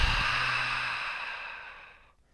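A single long, deep exhale during yoga breathing: a close, breathy rush of air that slowly tapers off over about two seconds.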